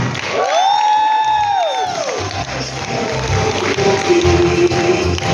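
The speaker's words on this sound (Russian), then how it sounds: "Аплодисменты!" Audience at an award ceremony cheers and applauds loudly throughout as a winner is called to the stage, with a rising-and-falling shout or whistle near the start over the steady crowd noise.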